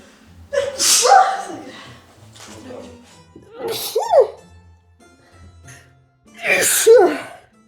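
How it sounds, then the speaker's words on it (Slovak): A person sneezes three times after breakfast, each sneeze a sharp, loud burst preceded by a short intake of breath, spaced a few seconds apart with quiet between. "Každé ráno, 365 dní v roku, keď ráňajkuje, tak potom kýcha."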